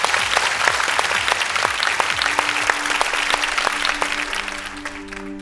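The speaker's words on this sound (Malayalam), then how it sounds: "എല്ലാരും നല്ലൊരു കൈയടി." Studio audience at a comedy show breaking into sustained applause, dense rapid clapping that fills the room loudly and steadily before tapering slightly at the end, with faint tonal music entering underneath.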